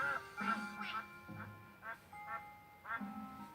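Cartoonish duck quacks used as a sound effect in a children's read-along of The Ugly Duckling: a series of nasal, honking calls in uneven bursts, some overlapping, fairly loud and close.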